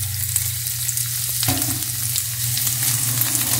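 Garlic drops into a hot pan beside seared chicken pieces, kicking up a sudden louder sizzle midway over an already steady frying hiss, with light stirring scrapes and no talking.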